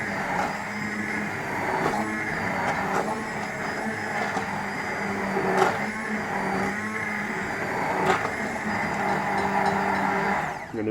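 Blender blitzing pea soup with a stock cube, a steady loud motor whir with a busy grinding texture running continuously for about eleven seconds, no talk over it.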